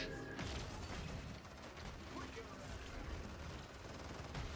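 Rapid gunfire and mechanical clatter in the video game Paladins, a dense continuous burst of shots and ratcheting effects under busy game sounds, with a voice talking over it.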